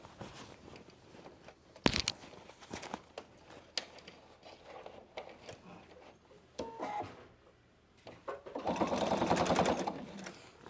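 A PFAFF Expression 720 sewing machine stitches a fabric pouch, a short whirring run at the end following scattered handling clicks and fabric rustle, close and fairly loud.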